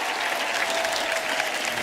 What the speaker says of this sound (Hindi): एक बार हमारे मेहमानों के लिए जोरदार तालियां।